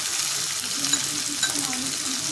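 Chopped tomatoes tipped into hot oil already seasoned with cumin seeds, giving a steady, close, loud sizzle and crackle with light stirring scrapes and no voices.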